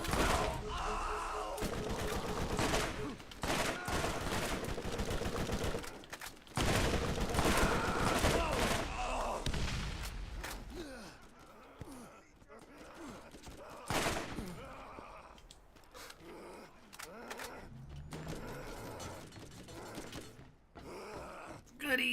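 Gunfire from the first-person shooter Borderlands, dense bursts of shots and impacts through the first half, then thinner scattered shots and game effects, with a voice talking over the action.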